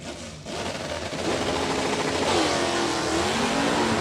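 Stock clutch drag race cars launch down the strip at a dragway, engines surging and climbing in pitch through gear changes, loud and sustained after a brief quiet start.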